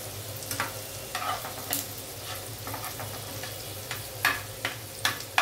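Onion fries in a pan for tiffin rice, a soft steady sizzle broken by faint scraping stirs, close and alone without talk.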